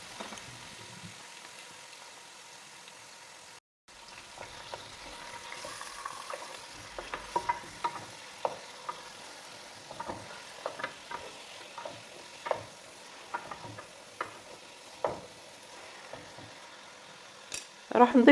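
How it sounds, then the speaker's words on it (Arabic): Chicken pieces fry in hot oil in a pot, a steady low sizzle under regular scraping and knocking of a utensil against the pot. "راح نضيف ليها قطع الدجاج اللي راح نخليها تقلى شوية في هذيك الزيت"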